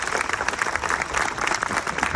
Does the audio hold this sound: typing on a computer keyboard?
no